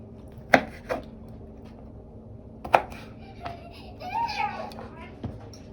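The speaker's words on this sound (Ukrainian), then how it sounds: "я нарізаю апельсинки таким чином на 4 частинки" A knife cuts oranges into quarters on a board in a few sharp, separate chops spaced unevenly, with a faint voice murmuring in the background.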